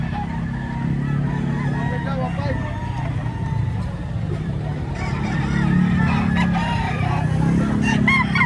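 A rooster crows among other fowl, its calls rising over steady background chatter as people talk nearby.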